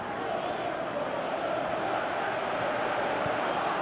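Stadium crowd in the football video game Pro Evolution Soccer 2018, a steady, dense roar of many voices holding at constant loudness throughout, with no breaks or distinct chants standing out.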